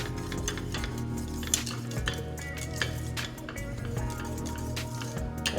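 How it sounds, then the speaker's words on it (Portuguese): A spatula stirs thickening semolina gnocchi dough in a pan, producing repeated soft squishy scrapes and light clicks against the pan under a low steady hum, close and moderately quiet. "Nesse momento, eu vou começar a mexer com a espátula"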